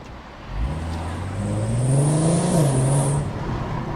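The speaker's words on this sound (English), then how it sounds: "so you can hear the car" A Volkswagen Golf R32 engine with standard exhaust revs up from idle to about 3,000 RPM, its low exhaust drone climbing steadily in pitch, holding, then easing back down, nearby and fairly loud.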